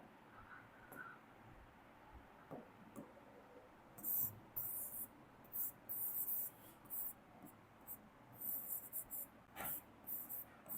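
Pen or marker writing notes during a lecture, heard as quiet bursts of high scratchy strokes in short irregular groups over a hushed room with faint background noise.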